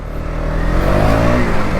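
A KTM Duke motorcycle, freshly serviced, pulls away close by, its engine note rising steadily over a couple of seconds with no talk.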